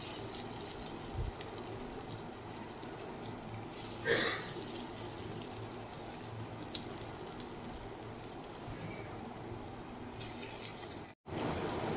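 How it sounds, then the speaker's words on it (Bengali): Small sweet corn pakoras fry slowly in oil over a low gas flame, a quiet continuous bubbling sizzle with occasional sharper pops, heard close. "এই যে ছোট ছোট পকোড়াগুলো এইভাবে গ্যাসটাকে একটু সিম করে দিয়ে ধৈর্য ধরে ভাজলে তবে ভালো মুচমুচে হবে"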